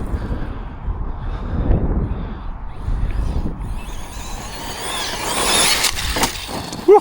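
An RC monster truck tearing across an outdoor bash spot, a continuous rough rumble and whine under wind buffeting that rises into a brighter, louder pass toward the end.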